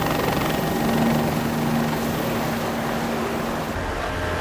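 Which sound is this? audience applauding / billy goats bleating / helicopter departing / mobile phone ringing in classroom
helicopter departing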